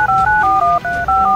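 Telephone keypad tones dialing a number in an audio video game, a quick run of about eight clear, evenly spaced beeps at steady volume with no talk.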